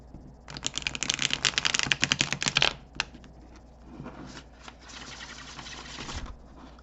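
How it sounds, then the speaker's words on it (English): Tarot cards being shuffled briskly in the hands, a dense rapid riffling burst followed by softer intermittent card shuffling and handling, close and alone with no talk. "let's do one more quick shuffle"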